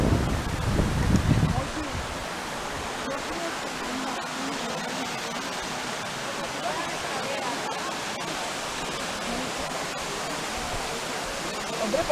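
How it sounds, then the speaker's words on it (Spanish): Rushing water in a river gorge on a hiking route around Sot de Chera, a steady broadband roar, fairly faint, with a brief louder rumble at the start. "¿Dónde sale tanto agua?"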